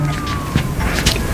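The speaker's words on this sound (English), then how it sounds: "Is that the police? No, that's an ambulance." An ambulance siren wails in a steady, slowly falling tone at moderate distance, carried over a low rumble of passing traffic with a few soft knocks.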